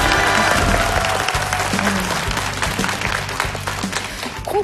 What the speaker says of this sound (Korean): 자, 이분들께 저희 환영의 박수